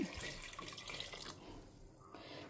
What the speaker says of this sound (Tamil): அதுக்கப்புறமா புளி ஜலம்